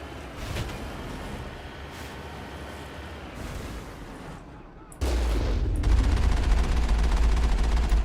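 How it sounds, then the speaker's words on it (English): Gunfire and cannon booms from Mass Effect 1's Mako vehicle combat form a dense, rumbling barrage that jumps louder halfway through, with some speech mixed in. "Finish off whoever's shooting at me."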